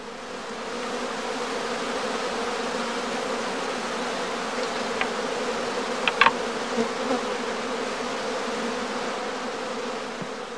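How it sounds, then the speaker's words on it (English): A dense, steady hum of many bees in a skep during swarming, continuous and close, with a few brief sharper buzzes of individual bees passing by. "the humming of the emerging bees is a good indicator of the progress of swarming"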